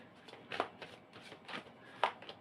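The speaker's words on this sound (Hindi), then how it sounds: "मैं कार्ड्स को शफल कर रही हूँ" A deck of tarot cards being shuffled by hand, heard as soft, quiet riffles and flicks in short bursts. The sound is close-up and there is no talking.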